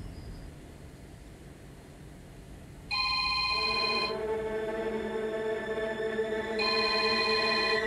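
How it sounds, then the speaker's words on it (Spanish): A telephone bell starts ringing loudly a few seconds in and keeps ringing in repeated bursts until the end, over a low steady background hiss. "El teléfono sonará todo lo que tenga que sonar."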